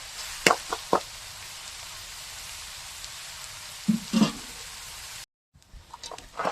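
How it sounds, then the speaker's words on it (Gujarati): Chopped onions sizzle steadily in hot oil as they fry to golden brown for a dhaba-style chickpea curry, with a low constant hiss broken by a few sharp pops and spits and a brief gap near the end. "હવે આ ડુંગળીને આપણે છે ને પકાવી લેવાની છે તેલમાં."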